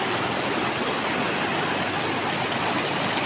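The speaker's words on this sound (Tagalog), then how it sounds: "malakas talaga ng tubig" Strong river current rushing past a bridge construction site on the Himogaan River, a loud, steady broadband roar of water filling the whole stretch without a break.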